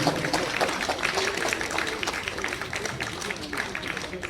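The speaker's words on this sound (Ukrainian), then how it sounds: "Аплодуємо ще раз людині" An audience at a festival applauds a strongman after his performance, a steady, fairly distant patter of many hands clapping with scattered louder claps and some crowd murmur underneath.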